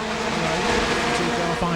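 BriSCA F1 stock cars race round the track at the 2002 European Championship, a loud continuous engine roar with tyre noise as the pack passes close by, with a commentator's voice running over it.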